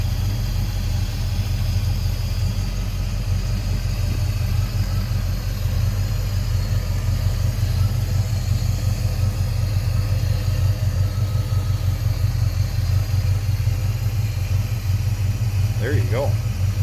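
A rebuilt engine in a 1964 Oldsmobile Cutlass convertible idles steadily, giving a continuous low rumble that holds even and unbroken throughout.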